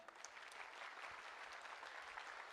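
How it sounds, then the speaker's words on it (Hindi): Faint, distant applause from an audience at a literature festival, a steady wash of clapping with no talk over it. "एक बार फिर से जोरदार तालियां।"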